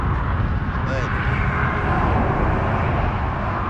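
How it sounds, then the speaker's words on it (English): Road traffic crossing the bridge above the Hoover Dam near Lake Mead, Nevada, forms a continuous loud, close rumble and wash of noise with no pauses. "Sorry for the noise, but it's traffic."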